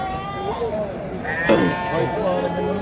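Sheep bleating at a large livestock bazaar in Surxondaryo, several wavering bleats close by, one louder call in the middle, heard amid people talking.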